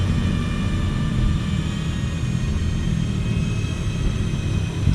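A Speedybee Master 3x FPV drone flies with a steady buzzing motor whine and rumble, constant and fairly loud, with no speech.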